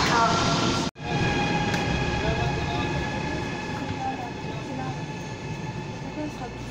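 Inside a TGV high-speed train in China, a constant low rumble of the carriage in motion with a brief dropout near the start and faint talk in the background.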